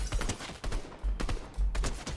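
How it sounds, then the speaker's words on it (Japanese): Gunfire in the video game Fortnite, near a gas station: four clustered bursts of muffled shots at moderate volume, coming from a distance. "ガソスタの奥の方で銃声してるぞ、これ。"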